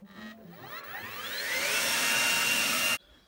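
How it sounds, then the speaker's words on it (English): A garden leaf blower spools up with a rising whine into a loud, steady roaring rush while tidying fallen rose petals in flower beds, then cuts off abruptly near the end. "you can use these blowers to tidy them up, and it's a bit like a hoover for your flower bed"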